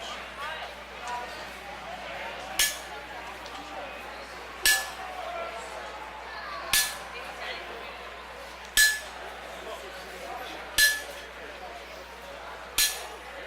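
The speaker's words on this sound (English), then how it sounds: "I'm going to take my V-shaped chisel and give our dragon some scales" A V-shaped chisel is struck into hot metal to carve scales on a forged dragon: six evenly spaced, bright ringing metallic strikes about every two seconds over a low steady background hum.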